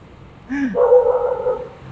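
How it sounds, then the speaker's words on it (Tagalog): A single dog gives a short yelp, then a sustained whining bark-like cry that holds for about a second, fairly close, with no talk. "ang daming aso"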